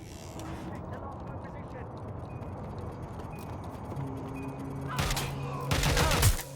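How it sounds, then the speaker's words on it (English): Gunfire in the Watch Dogs: Legion video game, a steady din of rapid shots with loud bursts near the end, under a game voice. "Shots fired!"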